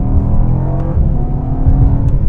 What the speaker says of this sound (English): The motor sounds great during these just running through the mid-range there.